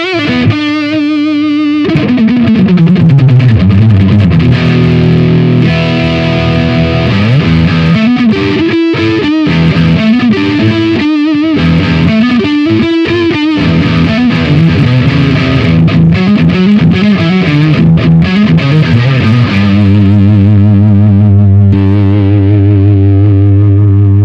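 Electric guitar played through a TS9 Tube Screamer overdrive into a Marshall amp with a noise gate, loud and close, with heavily distorted chugging riffs, sustained chords and short gated stops, alone without talk.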